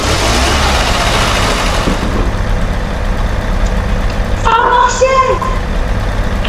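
A vehicle engine starting up in a Roblox desert escape game, a loud continuous low rumble that stays constant, with a brief tonal game sound near the end and a voice speaking over it.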